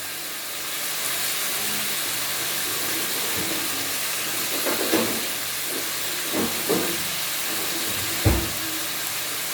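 Tikka pieces roast in oil for yakhni with a continuous hiss, broken by a few louder clunks and scrapes from stirring toward the end.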